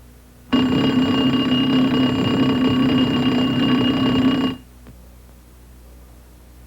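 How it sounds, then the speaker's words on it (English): A CH-47 helicopter troop alarm bell rings loudly and continuously for about four seconds, then stops abruptly, leaving a faint background hum. "Each troop alarm box is equipped with a bell designed to alert passengers and crew with predetermined signals in the time of emergency."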